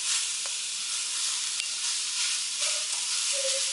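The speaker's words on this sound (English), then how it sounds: "just keep stirring it around until everything's coated" Pumpkin frying in oil with cumin, thyme and saffron sizzles in a steady close hiss while being stirred, with a few faint scrapes of the utensil against the pan.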